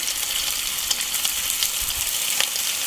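Bacon-wrapped beans sizzling in a hot skillet on a braai, a loud, steady crackling fry with scattered pops, heard close and alone.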